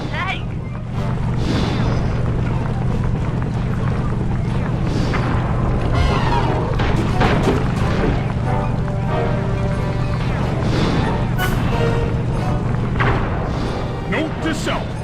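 Explosions from shooting a tank and explosive barrels in the Sly 2 video game, with repeated booms and thuds over a constant low rumble and noisy game background.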